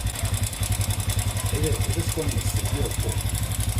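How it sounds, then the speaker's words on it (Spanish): Honda Flex 125 motorcycle engine idling with a steady, rapid low pulsing beat and light mechanical ticking from valves and chain, close up and continuous. "Acá tiene un poquitico de sonido como de válvulas y de cadenilla"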